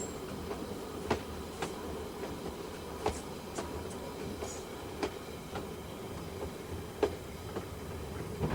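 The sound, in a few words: train 819 running through the Buller Gorge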